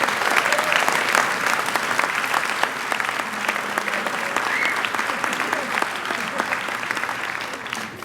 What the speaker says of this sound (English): Could we give them all a round of applause?